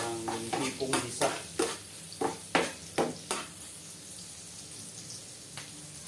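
Shrimp hitting a hot pan of browned onions, each addition giving a sharp sizzle burst, about ten of them in an uneven rhythm over a steady low frying hiss.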